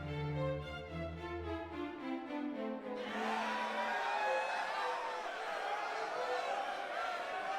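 After a short musical phrase from the Dragon Quest 1 HD-2D Remake, a video game crowd breaks into a dense, steady wash of applause and cheering that stays moderately loud to the end.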